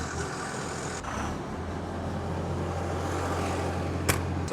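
A Goodeng G30AU directional drill's engine runs loud and close with a steady low drone, holding an even level with no clear rise in revs, and a sharp click near the end.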